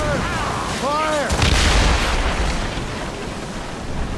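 Ship cannon broadside in Assassin's Creed Rogue: a heavy, rumbling volley of booms around the middle, with a shouted voice just before and dense battle noise throughout.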